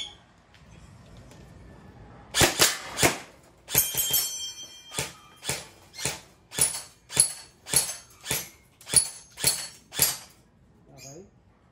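HFC 203 AEG polymer airsoft rifle test firing on full auto, a short run of snappy clacks followed by a steady rhythmic series of about a dozen evenly spaced shots, close and clear over faint room tone.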